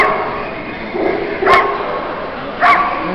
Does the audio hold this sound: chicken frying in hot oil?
no